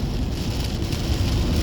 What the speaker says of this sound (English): It's a lot of rain out here right now.